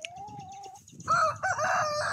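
A rooster crows up close while a flock of around 22 hens clucks around him, a short burst of mixed, busy farmyard calls.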